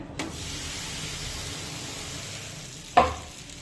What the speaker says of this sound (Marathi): आता हे थालीपीठ आपण तव्यावर टाकूया